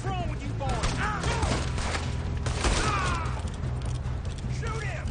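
Gunfire in the video game Red Dead, with repeated shots and clattering action sounds layered under shouting voices and game music on a train, loud and busy throughout.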